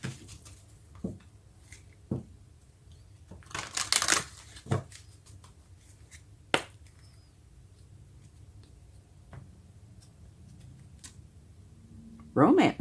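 Angel tarot cards are shuffled by hand in soft, scattered riffles and taps, close and quiet, with a few louder bursts of flicking cards.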